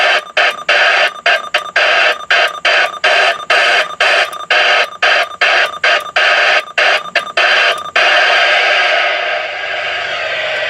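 A President CB radio switched on inside a Humvee, giving bursts of loud static that cut in and out in a choppy rhythm before settling into a steady, quieter hiss near the end.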